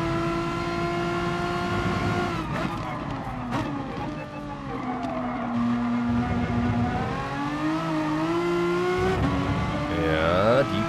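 Renault Mégane Trophy GT4 race car lapping Suzuka in Gran Turismo Sport, its engine droning and revving through rising and falling gear tones, with tyre squeal near the end and a voice talking faintly underneath.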